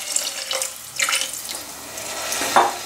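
Water runs and splashes into a pan in short uneven pours, close and fairly loud, with no talking.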